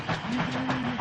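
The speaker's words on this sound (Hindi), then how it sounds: "वो इंजन का आवाज" A steady, loud mechanical drone with a low tonal hum, like a Pakistani train engine running close by, continuous throughout with no voices.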